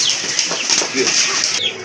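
Lotan and fancy pigeons coo and flutter up close in a loft, with soft throaty cooing and wing rustles that continue without a break.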